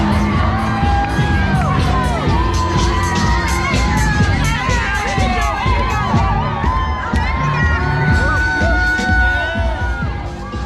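A dense crowd lines the New York City Marathon course, cheering runners with loud, continuous shouting, whoops and voices close around. Children's shouts and scattered bangs rise through the roar.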